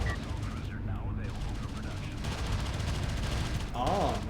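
Rapid gunfire and explosions from a real-time strategy battle in Homeworld: Deserts of Kharak, a dense continuous crackle of shots with sweeping effects, loud and close throughout.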